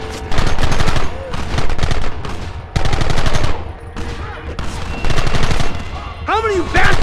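Automatic gunfire crackles in dense bursts during a Red Dead Redemption battle, loud and sustained, mixed with game music and shouting voices, with a brief whistling sweep near the end.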